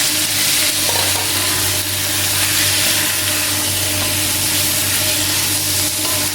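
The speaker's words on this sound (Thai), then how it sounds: "พริกแกงเราเริ่มหอมแล้วเราก็เอาหมูลงไปผัดเลย" Pork cartilage stir-frying with red curry paste in a hot pan, a loud continuous sizzle and hiss with a steady low hum beneath and no voices.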